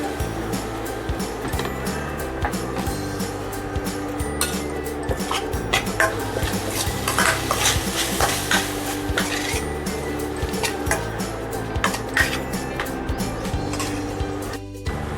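Tomatoes being stirred into a pan of soya chunks masala on an Indian home stove, with steady metal scraping and clinking of a spoon against the pan, moderately loud and continuous with faint sizzling underneath and no talking.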